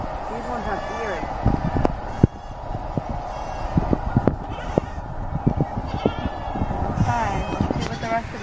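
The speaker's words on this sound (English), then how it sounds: "Come here, goat." Goats bleat at a game farm, wavering cries repeating among people talking and the bustle of a crowd, with occasional sharp knocks close by.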